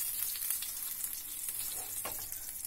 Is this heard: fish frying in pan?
yes